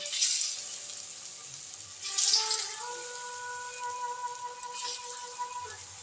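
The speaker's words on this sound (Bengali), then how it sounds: "আর এই ধোকার টুকরোগুলোকে আমি আস্তে আস্তে করে এবার ভেজে নেব।" Dhoka pieces frying in mustard oil in a kadai give a soft, steady sizzle with faint bubbling, rising briefly in a couple of spots, with a quiet tonal hum running under it.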